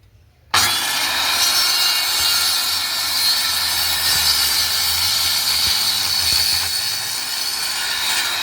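A loud, steady high-pitched whine of a power cutter grinding through material, starting abruptly and running continuously without pause.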